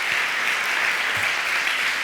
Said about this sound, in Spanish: Jo demanaria un aplaudiment per la Ima i la Sara.